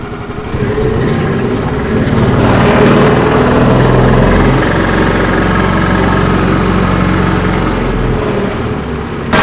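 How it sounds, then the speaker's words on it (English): The engine of a Munckhof Pluk-o-trak orchard tractor runs steadily at idle while warming up after maintenance, a loud, continuous chugging rumble close by with no speech. "first we let the engines warm up so the oil will be liquid"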